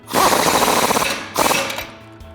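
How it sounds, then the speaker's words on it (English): An impact gun with a 21mm socket tightens a suspension nut on a RAM 1500 during a lift kit install, with two loud, close rattling bursts, the first longer than the second. "using the 21mm wrench on the outside and the 21mm socket on our impact gun back here"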